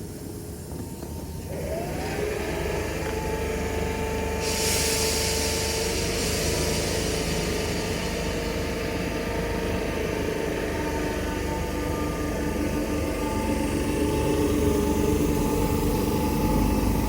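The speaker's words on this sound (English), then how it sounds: "Train now departing is a 319 going to Winslow." Class 319 electric train pulling out of Rainhill station, a steady mechanical hum and rumble that builds after a couple of seconds and holds at a constant, fairly loud level, with a hiss of air joining partway through.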